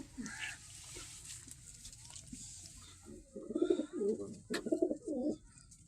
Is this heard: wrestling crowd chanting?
no